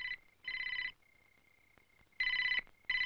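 A telephone rings indoors in a Hindi film scene, with loud bursts of electronic ringing separated by short pauses and a faint steady tone between the rings.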